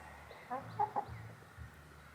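Backyard chickens cluck a few short times close by, soft and brief over faint background noise, with no one talking.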